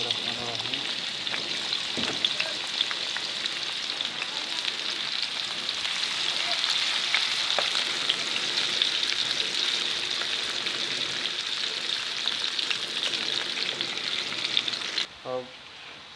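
Onions frying in oil for gussa sabzi hiss and crackle loudly and continuously at close range, with a few scraping stirs, ending in a brief clatter.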